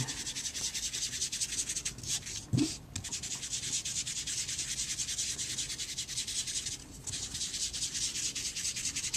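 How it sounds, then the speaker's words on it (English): Ink dauber lightly swirled around the embossed edges of a paper cupcake on a card, giving a soft continuous rubbing and scuffing close up, with one brief bump partway through and no talk. "I'm going to take the same dauber that I used in the same color ink and just kind of lightly swirl around the embossed edges of the cupcake"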